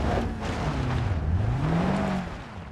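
Off-road 4x4 in the game Terrible Offroaders, its engine droning loud and steady with pitch dipping then rising as it climbs a slope, no talk.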